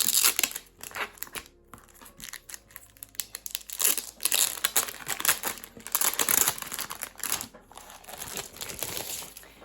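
Crinkling and tearing of paper in irregular bursts, close up, as a package is unwrapped with no voices.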